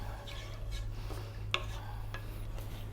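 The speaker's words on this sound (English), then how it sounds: "stirring and stirring and stirring for about another 5 or 6 minutes" A wooden spoon stirs a thickening sauce in a pan on the stove. It makes soft, faint scraping and rubbing strokes at an irregular pace over a steady low hum of background noise.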